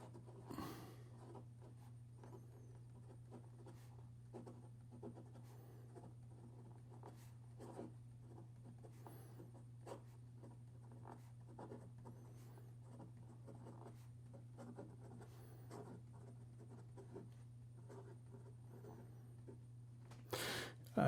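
A flexible-nib Leonardo Momento Magico fountain pen writes across paper in soft, faint scratches and short strokes, a quiet intermittent scraping with no talking, set over a steady low hum.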